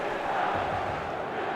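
Stadium crowd ambience in the football video game eFootball 25, a steady, dense roar of many voices holding at an even level throughout, with no clear peaks or individual cheers standing out.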